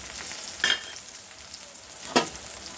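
Ingredients for oil-based eggplant curry are sautéed in hot oil, giving a soft steady sizzle broken by two brief scraping stirs near the pan.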